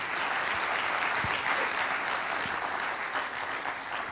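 Sustained audience applause at the launch ceremony for season 4 of Pépites d'entreprises in Burkina Faso, dense and even clapping from a large crowd that holds steady for the full four seconds, with a few sharper claps standing out.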